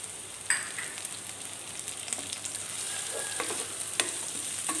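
Steady sizzling of onions, garlic and curry leaves sautéing in a pan, with occasional scraping stirs and light pops, close and continuous with no talking.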